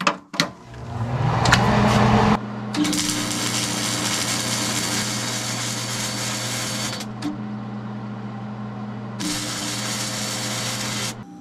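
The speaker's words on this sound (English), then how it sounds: "those are two pieces of half inch, and I just welded them together" An inverter welder set to full power joins two pieces of half-inch steel, giving a loud, steady buzzing hum in two long bursts separated by a short break.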